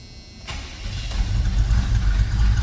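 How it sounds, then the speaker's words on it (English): A 1986 Chevrolet C10 Silverado with a 350 V8 and FiTech fuel injection cranks briefly and fires at once, settling into a loud, rumbling idle that stays close and steady. "That's why it fired right off when I clicked the key over."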